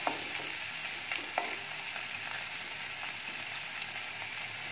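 Green chili, ginger, garlic and onion frying in oil on a raised flame, a continuous soft sizzle with occasional stirring scrapes and pops, close by and fairly quiet.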